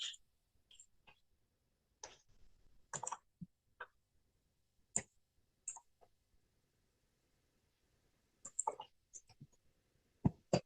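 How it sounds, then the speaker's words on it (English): Computer mouse clicking while designing in Canva, sparse single and double clicks scattered over quiet room tone, close and crisp, with long silent gaps between bursts. "So I'm going to click on it again."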